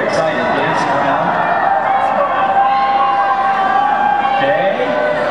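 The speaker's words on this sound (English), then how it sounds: "The crowd is actually being very excited, dancing around." An excited crowd at a total solar eclipse fills the air with steady, loud cheering and chatter, voices blending into a continuous roar that holds without pause.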